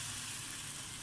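Chickpeas hit a pan of frying masala and a steady, bright sizzle holds evenly through the whole brief moment, with no voices.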